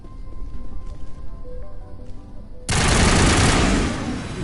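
Sudden burst of loud, continuous gunfire erupts midway through Mass Effect combat, a dense sustained volley after a quieter stretch of game ambience.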